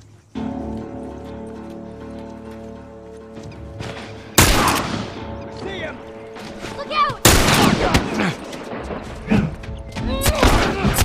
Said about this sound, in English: where's he shooting from?